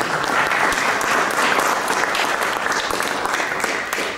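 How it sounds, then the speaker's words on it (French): Audience applause for a jury member being introduced at the Trophée National de l'Accordéon 2018, a dense, steady wash of many hands clapping that stays loud throughout and tapers slightly at the end. "qui est là, que l'on applaudit."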